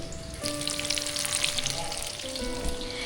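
Large prawns deep-frying in hot oil for prawns Koliwada, a loud, dense, steady sizzle heard close up with no talking.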